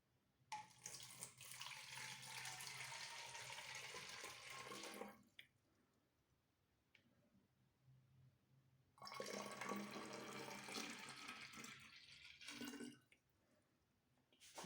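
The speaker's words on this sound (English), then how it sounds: "So let's fill this bottle with 1/3 of the water." Tap water pours into a plastic bottle being filled a third full for a homemade water rocket, two steady splashing runs of several seconds each with a quiet pause between, close by.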